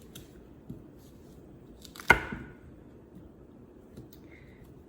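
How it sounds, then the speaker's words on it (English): A knife chopping sweet potatoes on a cutting board: one sharp, loud cut near the middle, with a few faint knocks before and after against quiet background. "And then I go back and take a section and stand it up and cut it into fourths."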